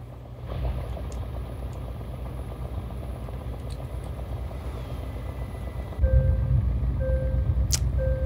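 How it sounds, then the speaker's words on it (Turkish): Warning chime inside a truck cab in Euro Truck Simulator 2, West Balkans DLC, fitted with a Kurt exhaust: a steady engine drone runs throughout, and near the end short repeated tonal beeps sound over it. "Bir uyarı veriyor ama neyin uyarısını verdiğini ben anlayamadım."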